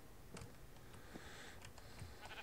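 A sheep in a Minecraft-style block-building game gives short, faint bleats a few times over a low background hum, with some light clicking like keyboard typing.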